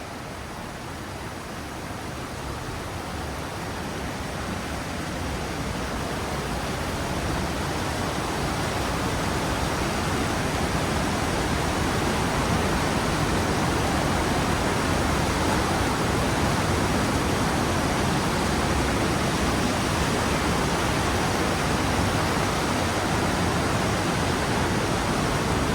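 A cold stream near Zapata Falls rushes in a steady, close, loud wash of flowing water, with continuous splashing as someone wades across, growing slightly louder over time and no talking.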